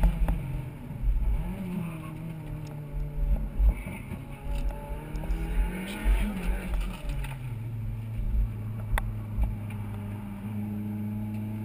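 Race car engine stutters and cuts out in third gear, a low droning engine note with brief dips and surges heard from inside the car under steady wind noise.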